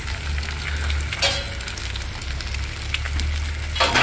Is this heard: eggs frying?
yes